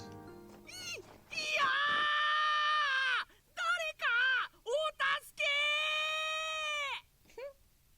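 A pitiful scream from the video game Cafe Enchante rings out loud and close as a long, high, wavering wail, then several short broken cries, another sustained wail and a final brief yelp.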